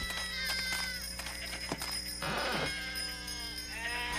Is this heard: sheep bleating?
yes